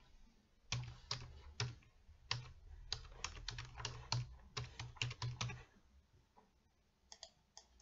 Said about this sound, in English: Now I put in my username.